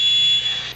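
A Digitrax SFX004 Soundbug model train sound decoder sounds its alarm as a loud, steady, high-pitched electronic tone that holds for most of a second before cutting off.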